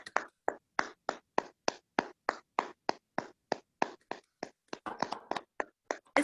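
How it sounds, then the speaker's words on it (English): Crisp hand claps at a Toastmasters club certificate presentation ring out in a steady, even rhythm, about three per second, close and clear with no talking. "Let's keep them clapping."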